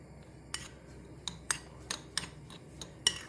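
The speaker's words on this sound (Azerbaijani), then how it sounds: "Əlavə edirəm, qarışdırıram." Spoon or utensil clinking against a bowl while walnut filling with lemon is stirred by hand, a series of light, sharp ticks about every half second, close and quiet, with no talking.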